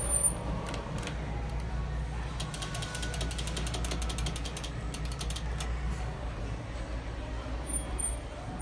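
A ThyssenKrupp Impulse hydraulic elevator runs during a ride, giving a low, quiet steady hum with faint mechanical clicking and rattling ticks in bursts throughout.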